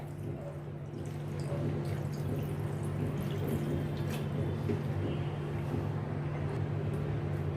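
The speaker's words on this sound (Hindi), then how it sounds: "इसके ऊपर मैं अभी ये चिल्ड वाटर डालती हूँ, जैसे इसकी थोड़ी हीट कम हो जाए।" Chilled water pours over drained boiled macaroni in a kitchen, a soft continuous splashing and trickling that sits low and steady under a faint background hum.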